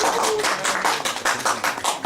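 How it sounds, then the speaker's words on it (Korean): Audience applause welcoming a speaker at a university special lecture on teaching methods at Kangwon National University: dense, steady clapping from a crowd lasting about two seconds. "박수로 모시겠습니다."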